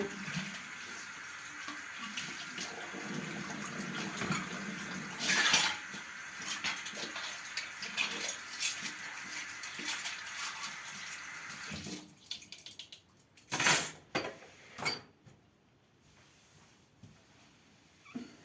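Dishes washed in a kitchen sink under running water, a continuous hiss of the tap with clinks of cutlery and pots, then a few louder clatters as the water stops.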